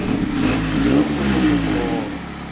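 A Mazda Miata engine with a newly installed exhaust revs up and down with a throaty, rumbling exhaust note, close by and loud, rising and falling in a couple of pulls.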